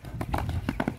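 Hooves of a two-year-old colt, about 1.55 m tall, clip-clopping while it is ridden, a close, steady run of muffled thuds in quick rhythm, with faint voices in the background.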